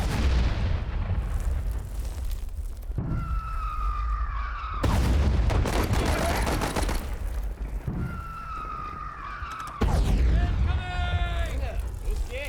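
Mortar blasts and gunfire in a trench-warfare video game: repeated heavy booms and dense crackling bursts, loud and continuous, with whistling tones rising between the explosions.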